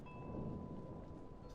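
Thunderstorm with heavy rain, a dense continuous hiss of downpour and a low rumble of thunder running steadily, with no talk.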